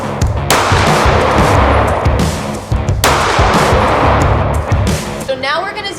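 Sharp, loud pistol shots from a Glock 43X fitted with a Baldr Mini light on a Recover Tactical Rail, fired while zeroing the light: several cracks at irregular intervals with a brief rustle at the end.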